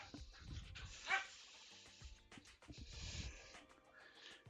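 Excited dogs, including a good boy named Neo, bark and yip in short bursts with whimpers between, fairly close and loud in a room, with faint human voice fragments underneath.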